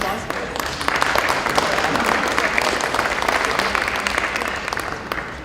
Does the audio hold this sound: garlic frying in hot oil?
no